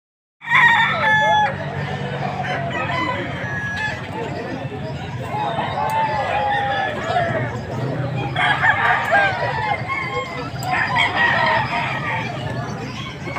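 Roosters crow repeatedly at a fighting-cock seller's stalls in Bamban, Tarlac, the young stags loud and close with overlapping cock-a-doodle-doos and clucks, while people talk nearby throughout.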